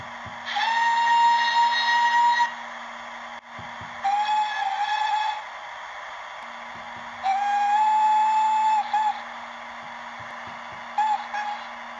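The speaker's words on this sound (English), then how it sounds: "the whistles sound absolutely adorable, especially if on a loco this big" Sound-equipped Hornby 9F model steam locomotive gives several long whistle blasts with breathy hiss, separated by pauses over a steady hum of the running mechanism, recorded up close with no talk.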